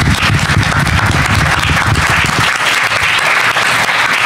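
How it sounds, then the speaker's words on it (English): A loud, dense round of audience applause at a voting rights conference session, continuous clapping filling the whole stretch with a cheering crowd mixed in. "Let's give them all a round of applause."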